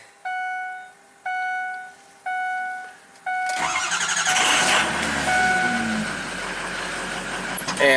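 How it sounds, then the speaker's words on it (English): A 2004 Ford F450 PowerStroke diesel truck with a replaced alternator and a charging fault: four evenly spaced warning chimes, then the engine cranks, catches and settles into a loud, steady, rumbling idle close by. "let's just start the truck up"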